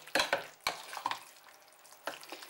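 Fish mince being stirred together with fried onion and carrot in a bowl, giving a few soft, wet scraping strokes up close, with quieter gaps between them.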